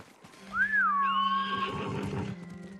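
A horse in Ghost of Tsushima lets out one clear, close neigh whose pitch rises and then falls into a wavering whinny, over a low steady hum with faint shuffling.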